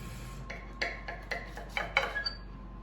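A fork and knife cut into a Tex-Mex pizza on a plate, a handful of faint scraping, clinking strokes spaced about a quarter second apart, close and quiet with no talking.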